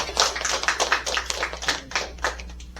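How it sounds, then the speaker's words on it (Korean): Audience clapping at a church missions conference after a prison ministry report, a fairly quiet patter of individual claps with a faint steady hum underneath. "박수 한번 쳐주세요."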